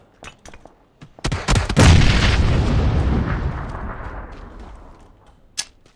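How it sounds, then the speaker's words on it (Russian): Grenade explosion in PUBG, opening with a few sharp clicks and pops, then a loud close blast whose rumble fades over several seconds, followed by one last crack. "Граната."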